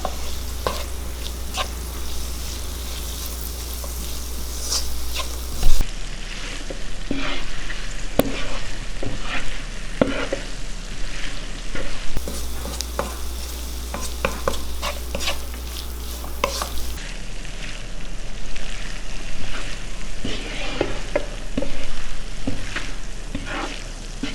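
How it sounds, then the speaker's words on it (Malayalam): Chili powder, coriander powder and a pinch of asafoetida stirred and sautéed in hot oil for a Kerala-style potato masala, a steady soft sizzle with scraping spoon strokes against the pan running through, no voices. "പൊടിയെല്ലാം ചേർത്തിട്ട് നന്നായിട്ടൊന്ന് വഴറ്റിയെടുത്തിട്ടുണ്ട്"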